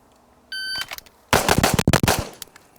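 Pistol fire during practical shooting practice with a 2011-style handgun, a shot timer's beep followed by a rapid string of loud, close gunshots in quick rhythmic succession.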